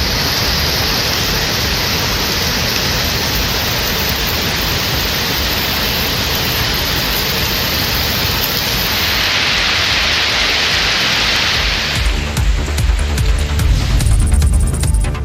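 Moderate rain falls steadily over the Chennai suburbs of Tambaram, Pallavaram and Chromepet, a dense even hiss throughout that grows rougher and more uneven near the end.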